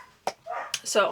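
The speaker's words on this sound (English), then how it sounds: "I do apologise if you can hear my dogs in the background." German Shepherd dogs bark a few times in the background, short sharp yaps over a quiet room while someone speaks.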